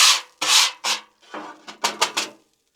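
A metal scraper rasps over a Blackstone griddle, clearing burnt bits in a run of separate close, loud strokes, first long sweeps and then quicker short ones, ending in silence.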